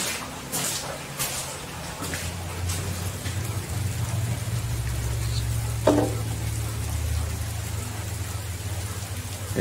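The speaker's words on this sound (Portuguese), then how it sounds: "Tá chovendo bem aqui, né?" Steady rain falls on a house at night, a constant hiss with scattered louder drops, while a low hum runs underneath and someone speaks briefly now and then.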